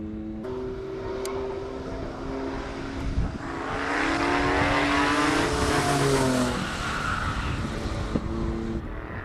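A Mitsubishi Pajero races up a 1.8 km classic hill-climb course at the base of Table Mountain, its engine swelling from distant to loud as it passes, rising and falling in pitch through the gears, then fading away.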